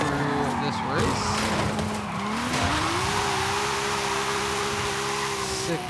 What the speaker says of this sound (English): Sick burnouts, bro.